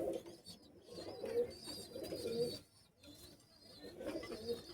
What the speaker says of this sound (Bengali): আপনাদেরকে একটা কামাগার কবুতর দেখাই দেখেন সব পুরাতন ব্লাড লাইনের কবুতর